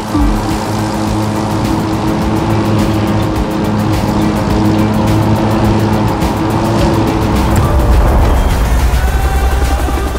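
A racing car engine roars in The Crew 2 video game, a loud sustained high-revving drone with shifting pitch throughout, changing into a lower rumble toward the end with no talk over it.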